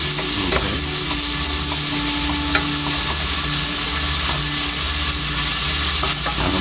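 Hamburger meat frying in a little oil in a pan, a steady loud sizzle throughout with occasional scraping and stirring, no talking.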